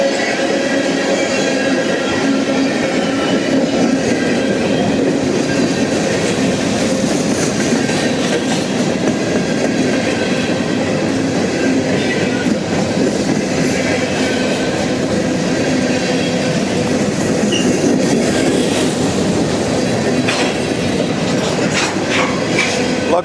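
A freight train with distributed-power locomotive 5230 rolls past close by on the P&L line at Madisonville, Kentucky, a loud, continuous rumble of wheels, steady clickety-clack and faint squeals throughout.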